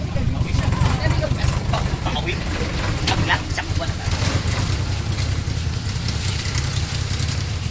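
A motorcycle engine idles close by in a steady, continuous low rumble throughout, with people talking over it.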